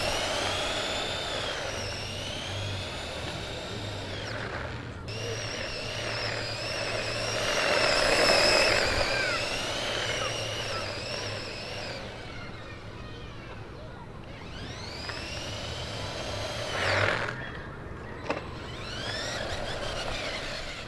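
Small electric motors of a LEGO BuWizz-powered Dakar racer whine and rise in pitch as the model drives over flat ground, steady and close with a few revving surges.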